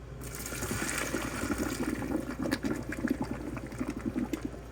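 Water from cooked pasta for shrimp scampi pours and splashes through a metal strainer in a steady, close rushing stream, with the strainer shaken back and forth.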